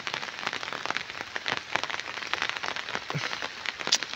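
Steady rain patters across a guava orchard during the monsoon, a dense, even hiss of drops striking leaves close by, with a few sharper drips standing out near the end.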